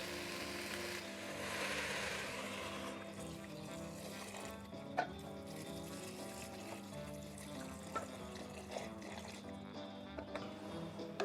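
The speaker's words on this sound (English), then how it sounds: "now I'm going to start adding my liquid" Liquid is poured into a pot of fish soup, a brief soft gush followed by faint trickling and light clinks at low volume.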